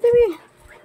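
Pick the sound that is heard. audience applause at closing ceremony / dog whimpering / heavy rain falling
dog whimpering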